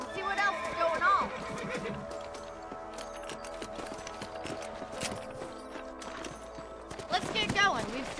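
Horses galloping in the Red Dead Redemption video game on PS4, with a steady run of hoofbeats and an occasional whinny under game music and voices talking throughout.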